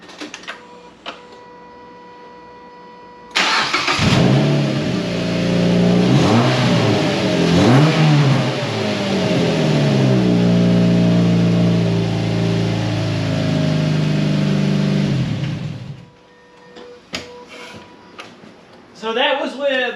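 A Mazda Miata NC engine on stock air intake, parked with the e-brake set, revs up several times in close, loud bursts, settling between surges, then cuts off, followed by a few faint clicks.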